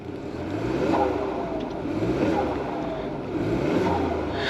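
A 2022 Ford Escape's turbocharged 1.5-liter three-cylinder engine idles and hums steadily with slight rises in revs, a low continuous drone recorded up close.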